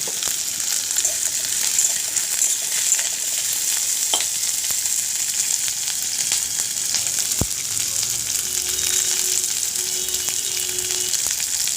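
Onions that are already lightly browned fry with garlic cloves in a pan, giving a steady, close sizzle throughout, with a few faint clinks and a brief tap partway through.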